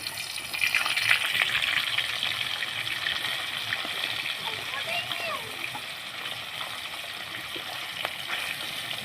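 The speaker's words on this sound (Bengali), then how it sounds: "তেলটা খুব ভালো করে গরম হয়ে গেছে, এখন আমি মাছগুলো দিয়ে দেবো।" Surma fish pieces dropped into well-heated oil, a steady loud sizzling hiss that swells at first and settles into continuous frying, with someone speaking over it.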